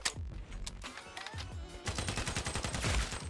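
A gun fires in the video game Sabotaj in a fast automatic stream of punchy shots, steady and close, with the rhythm tightening toward the end.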